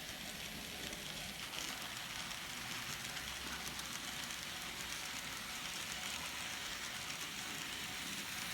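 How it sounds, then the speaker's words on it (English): An N scale Atlas SD-9 model locomotive runs steadily on its track, a continuous soft whir and rumble with faint rail clatter, heard alone at an even level throughout. "And now it's time to run some trains."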